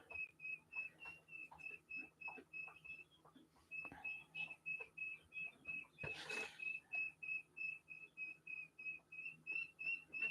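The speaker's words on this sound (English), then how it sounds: "It's that extremely loud, high-pitched cheeping that you are probably hearing coming through my mic" Guinea fowl give loud, piercing cheeps in a steady, rapid rhythm that runs almost unbroken, with a brief rustling burst midway and faint tapping beneath.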